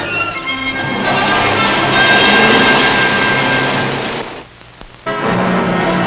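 A twin-engine L-23 Seminole military airplane drones steadily and loudly with a broad engine roar, dipping briefly near the end before returning at full strength; no talk.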